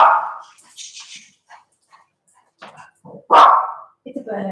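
A small dog barking at a bird in a garden, a few short sharp yaps spread out among quieter sounds, with people talking nearby.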